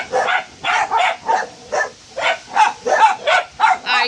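Several dogs bark in rapid, rhythmic bursts, loud and close, during a lightning and wind storm in Oklahoma.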